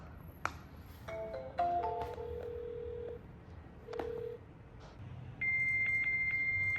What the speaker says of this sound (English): That is what it sounds like when you dial a fax machine